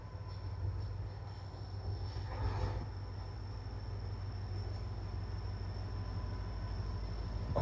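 Train rumbling past behind a river, a steady low rolling roar with a faint high tone running throughout, heard from a distance and fairly quiet, with no talking.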